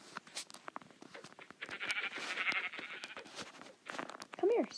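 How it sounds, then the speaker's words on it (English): Sheep in the Minecraft video game bleat near the end of the clip, after several seconds of scattered clicks and footsteps, with a faint voice in the background. "More sheep over there."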